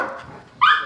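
Dogs at a home where several are being introduced to a visitor, with a single sharp bark rising near the end after a quieter stretch of low whimpering and movement.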